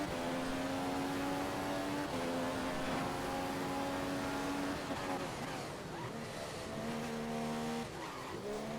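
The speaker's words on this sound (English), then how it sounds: "this is about to be Zinka 97 starting his lap now" An F1 race car in a video game accelerates at the start of a lap at Canada, a loud continuous engine whine climbing through gear changes with brief dips as it shifts.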